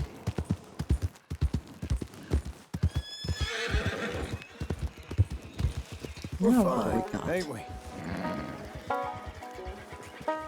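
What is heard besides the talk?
horses hooves and neighing, video game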